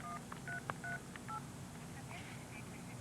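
Touch-tone telephone keys sound as a number is dialed, with a quick series of short beeps followed by a faint line tone. Quiet talk runs underneath.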